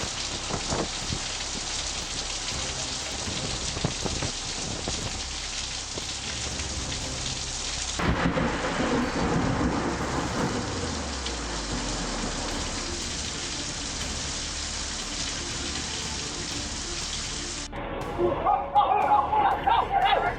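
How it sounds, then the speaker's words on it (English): A winter storm batters the Wellington coast with huge waves, a dense, continuous roar of wind, surf and rain that shifts in texture partway through and grows rougher toward the end. "Huge waves roared off Wellington as a winter storm arrived, transforming the coastline into an ocean battleground."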